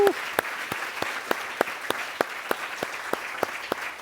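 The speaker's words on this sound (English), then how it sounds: "Let's give a round of applause," Applause at a scientific merit awards ceremony, a light scattering of distinct claps spaced out at a steady, sparse rhythm, fairly close over a quiet room.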